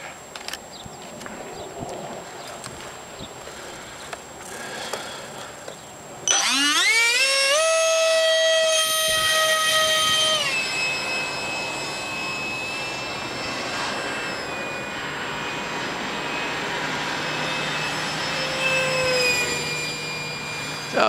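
An RC F-86 Sabre park flyer jet, an electric model drawing about 14 amps, spools up with a rising whine that then holds as a steady high-pitched hum while flying, fairly loud and close.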